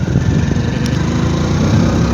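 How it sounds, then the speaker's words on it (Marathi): A wheat threshing machine running in a village, a loud continuous engine drone with a dense mechanical rumble and no breaks from start to finish. "गहू काढायची मशीन होतं"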